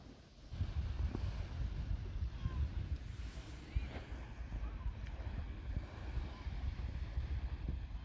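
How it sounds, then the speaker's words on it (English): Low rumbling surf and wind buffeting the microphone on the coast between Blackpool and Fleetwood, with waves washing steadily in the background and occasional faint, indistinct sounds. "I'm going to let you relax and listen to the noise of the waves"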